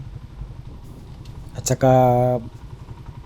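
A motorcycle engine, parked under a tree at a Davao City flyover construction site, revs briefly with a steady harmonic drone for about half a second, loud and close, amid background noise and a spoken phrase.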